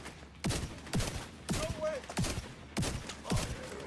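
Gunfire in The Division 2 video game: six sharp bursts of shots spaced about half a second apart, fairly close and punchy, with a faint tonal game sound between them.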